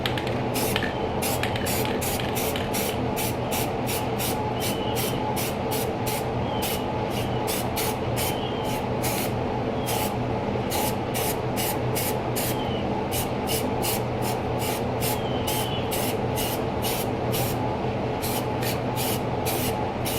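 A spray gun coats a Corvette in satin black paint, a steady close hiss running for twenty seconds with a rapid repeating ticking pulse over it, and no talking.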